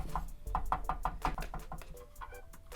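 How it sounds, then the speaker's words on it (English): Rapid knocks on a small Calico Critters Sweet Raspberry Home toy house, about a dozen light, hollow taps in quick uneven bursts, close and clear with no talking. "Knock, knock, knock."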